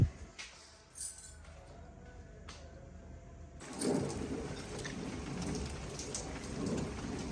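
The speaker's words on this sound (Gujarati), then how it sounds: "મેઘરાજાએ અત્યારે એનું કામ ચાલુ કરી દીધું છે. વરસાદ આવી ગયો." Rain falls during a New Year gathering: sparse drops and faint rumbles at first, then a steady, close downpour hisses in, with no one speaking.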